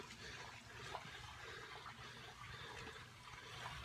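Water drains steadily from a batch of soaked hardwood fuel pellets, a continuous trickling, splashing rush of liquid heard close up and alone.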